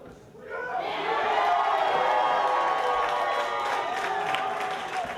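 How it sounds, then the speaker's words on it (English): A packed lodge crowd of Model Towners erupts at a playoff announcement, loud sustained cheering, shouting and clapping that swells quickly and holds. "The crowd on hand exploded in excitement to see their name on the screen."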